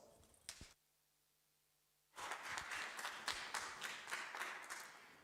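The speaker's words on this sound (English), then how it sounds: "So please, a big round of applause." An audience at a 2024 conference session applauds, a dense burst of many hands clapping that swells after a short silent gap and continues steadily, preceded by a few scattered claps.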